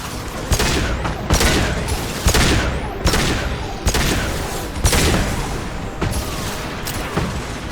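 Repeated heavy blasts and gunfire from combat in Mass Effect 2 hit at roughly one-second intervals, loud and close, each a sharp boom trailing into rumble, with little talk.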